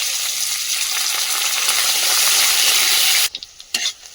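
Chopped onion and garlic sizzle loudly in hot oil, a steady bright frying hiss that cuts out abruptly near the end, followed by a few short sputtering bursts.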